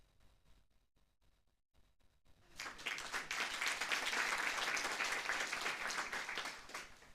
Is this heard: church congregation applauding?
yes